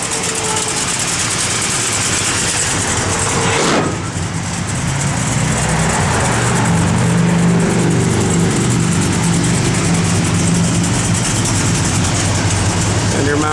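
A 1973 Plymouth Sport Satellite engine idles steadily and loudly nearby, a continuous low rumble with a brief disturbance partway through and constant background noise.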